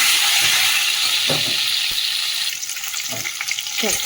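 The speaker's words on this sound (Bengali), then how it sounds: "ডিমগুলো ভেজে নিই" Eggs fry in oil in a pan with a loud, close sizzle and some stirring clatter; the hiss eases slightly partway through, and no one speaks.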